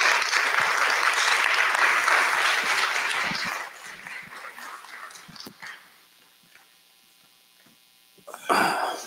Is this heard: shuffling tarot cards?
no